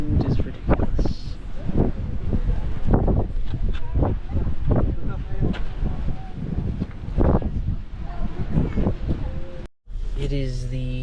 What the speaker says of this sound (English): the wind is ridiculous